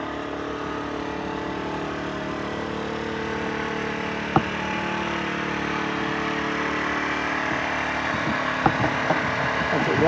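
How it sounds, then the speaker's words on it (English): A 2022 Yongfu Wicked 50cc four-stroke gas scooter idles high after a cold start, a steady, even engine drone held close and constant throughout, with a few faint clicks. "Starts right up. Runs on high idle for a minute."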